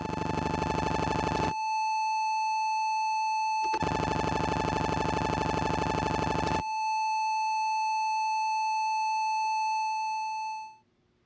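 A no-input mixing board fed back through channel one alone gives a loud, sustained electronic tone. Harsh buzzy bursts switch on and off over a steady pure whine, and the sound fades out at the end. Nobody speaks.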